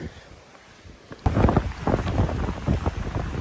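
Strong gale-force wind on coastal rock ledges at Fontygary buffets a microphone in loud, gusty roars that surge suddenly after a quieter opening and keep rumbling steadily.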